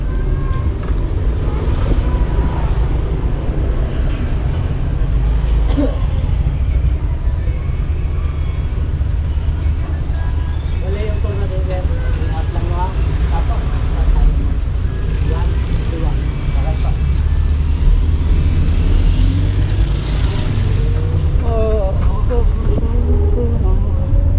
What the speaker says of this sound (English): we've taken this public transportation called tricycle